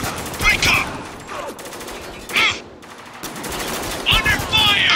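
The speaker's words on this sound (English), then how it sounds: "Under fire! Take cover!" Rapid automatic gunfire from the video game Spec Ops: The Line, loud bursts that carry on almost without a break through the whole stretch, with shouted voices mixed in.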